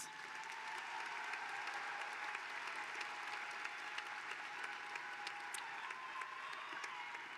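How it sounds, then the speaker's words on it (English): Commencement audience applauding graduating seniors of a veterinary medicine college, a large crowd clapping steadily and evenly, heard at a slight distance, with a faint tonal hum running underneath. "a round of applause for these outstanding seniors"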